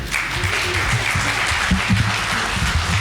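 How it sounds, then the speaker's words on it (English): A standing crowd claps at an outdoor political rally in Meru, Kenya, awaiting a prime minister: loud, dense, continuous applause with low crowd murmur underneath. "and start clapping"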